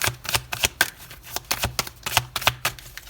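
Tarot cards riffle and slap in quick repeated bursts as a deck is shuffled for a reading, crisp and close with no voice over it.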